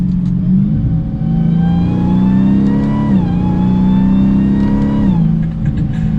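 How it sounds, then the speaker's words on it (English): A 2021 Dodge Challenger SRT Super Stock engine revs steadily under acceleration, a rising supercharger whine layered over a low rumble, close and continuous throughout. "That supercharger whine never gets old."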